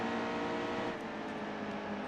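A racing truck engine in the NASCAR Heat 2 video game, rejoining the track after a pit stop: a steady, fairly faint droning engine hum with held tones, continuous and alone.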